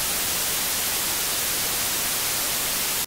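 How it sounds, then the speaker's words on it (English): Steady, loud white noise: an even, hissing static that holds constant and then cuts off abruptly at the end. "White noise is a great option because it's consistent and can help mask noises."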